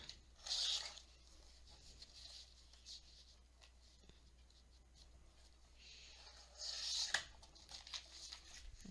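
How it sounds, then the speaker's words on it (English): Strip of tissue-paper collage sheet being cut off: two brief, faint, crisp rustling snips close by, one near the start and one near the end, with quiet room hush between and no talking. "Okay, so I have my collage sheet here, and I just cut a strip off."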